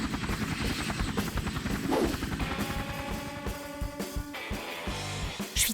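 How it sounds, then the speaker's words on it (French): A helicopter delivering shoes to a home, its rotor chop pulsing loudly and steadily throughout, with sharp clattering bursts and broadband roar layered over the rhythmic thumping. "La livraison à domicile se fait par hélicoptère."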